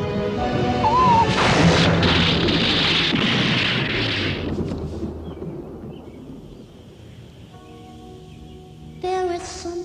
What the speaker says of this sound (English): Thunder scares me.